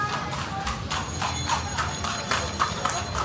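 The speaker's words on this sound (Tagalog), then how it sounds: "Yan ang mga iba't ibang mga kabayo mga yan dito sa Bigan." Horse hooves clip-clopping on the street of the Calle Crisologo heritage site in Vigan, a steady string of close, sharp knocks over busy outdoor background noise.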